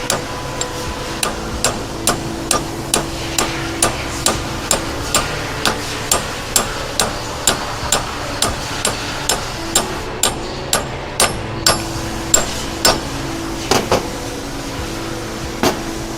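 Repeated metal tapping as a new bearing race is driven onto a Corken vane pump shaft without a press, sharp even hammer-like taps roughly every half second, close and steady throughout.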